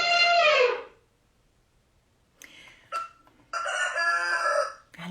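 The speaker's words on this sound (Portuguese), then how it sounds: "Galinha." A chicken gives a burst of loud clucking, then after a quiet gap a rooster crows in a long harsh cock-a-doodle-doo, both near and alone.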